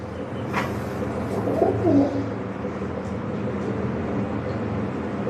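Pigeons coo softly among a steady low background rumble, with a brief sharp noise near the start and no talking.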